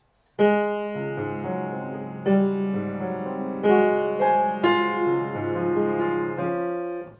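A piano plays a slow accompaniment passage from Scriabin's Nocturne Op. 9 No. 2, sustained chords and low notes, each new chord struck clearly and ringing out, alone without any voices.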